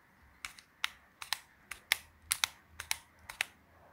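Crisp, close-up plastic clicks, about a dozen in an uneven rhythm, as a MoYu Pyraminx puzzle snaps into place while twisted.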